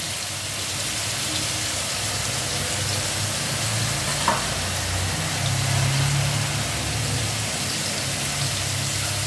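Ground coriander and cumin fry in a pan with a continuous, dense sizzle close by, along with faint stirring scrapes and a low background rumble.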